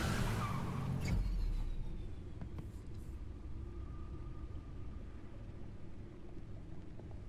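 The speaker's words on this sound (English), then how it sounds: "Here comes a unreasonably loud car." A loud car roars and skids in the Batman Telltale Series video game, with a strong engine burst and tire screech up front that settles into a steady rumble.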